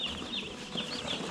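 Meat chickens in a box on a small farm give a brief burst of soft, high chirping and clucking, close and continuous, with a faint rustle underneath.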